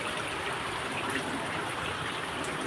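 Floodwater flowing near a bridge makes a steady, continuous rushing wash with no breaks, fairly loud and alone.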